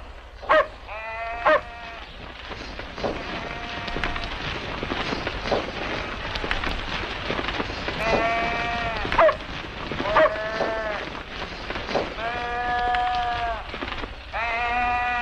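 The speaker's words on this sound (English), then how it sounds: "Al, you better go chase those sheep back" A flock of sheep on a ranch in the Sierras in a 1950 western film, bleating again and again, several overlapping wavering cries near and far over a noisy old soundtrack.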